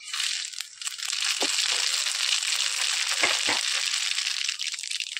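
Mustard seeds crackle in hot oil for a Malvani-style tempering, a close, dense, continuous spatter of sharp pops that stays loud throughout with no one speaking.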